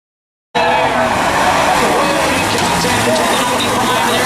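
Race cars roaring around a track in a claimers race, a loud continuous wash of engine noise and crowd din that begins abruptly after a moment of silence, with a voice faintly mixed in.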